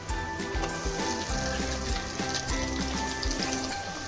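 Ginger garlic paste frying in hot oil for a chicken curry, a steady loud sizzle with crackling and occasional stirring throughout, no talk.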